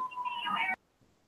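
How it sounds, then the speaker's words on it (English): A cat-like tonal cry, heard from a television playing in another room, sounds for under a second with a steady high tone and bright overtones, then cuts off abruptly into near silence. "Is somebody watching TV? What the hell is that? Is that a cat?"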